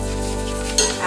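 A teaspoon of garlic sautés in a pan, a brief, close, steady sizzle with a quick scrape of stirring near the end.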